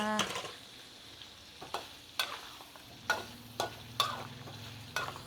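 Pork spare ribs frying in a pan, a steady oil sizzle broken by a series of sharp clanks and scrapes roughly every second as the ribs are turned, with no voices.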